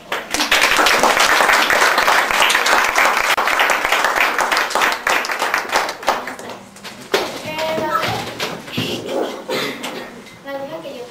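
An audience claps loudly and steadily after a student is introduced at a school biology lab presentation, then the clapping thins out and fades as voices and someone speaking come in near the end.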